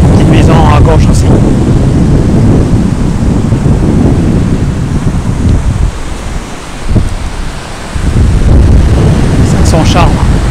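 Ocean waves breaking on a plastic-littered beach, a steady roar of surf and wind buffeting the microphone, loud and continuous with a brief lull in the middle.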